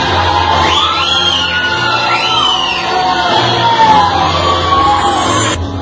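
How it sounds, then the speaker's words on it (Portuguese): Guests at a celebration event cheer, shout and whoop loudly for the hosts with a continuous crowd roar, while voices carry over the noise. "vamos dar as boas-vindas aos nossos anfitriões com uma grande salva de palmas"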